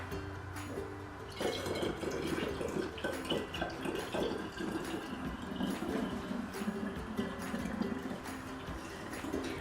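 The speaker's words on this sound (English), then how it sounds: "So now we can go ahead and add" Home-brewed kombucha being poured into bottles for second-stage fermentation gives a faint, steady trickle of liquid with small splashes and drips throughout.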